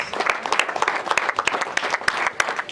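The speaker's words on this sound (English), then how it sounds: "Can we give her another round of applause" Audience applause following a presentation on child mentoring strategy, a dense run of many hands clapping steadily and close for the whole stretch, with no talk over it.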